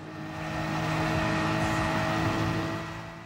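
GT Sport race car, a GR4 class machine on the Autodrome Lago Maggiore circuit, holds a steady loud engine roar at full throttle, swelling slightly and staying near throughout.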